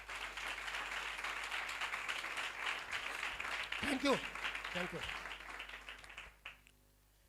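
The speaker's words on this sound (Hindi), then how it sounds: "एक दफा यीशु मसीह के लिए तालियां बजाएं।" An audience at a Christian sermon claps together, a broad wash of applause running steadily for about six seconds before fading, while someone speaks over it.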